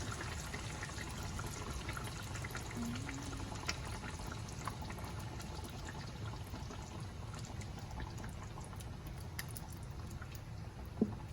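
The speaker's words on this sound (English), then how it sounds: "So now let's add coconut milk." A box of coconut milk poured into a chicken curry, a steady liquid pour with faint dripping, continuous and fairly quiet throughout.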